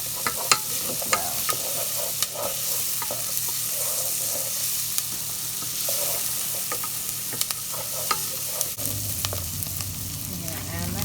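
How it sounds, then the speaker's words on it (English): Ground beef frying in a pan with onions and a little seafood, sizzling steadily while a utensil stirs and scrapes in sharp clicks throughout, growing louder near the end. "I'm going to add my ground beef."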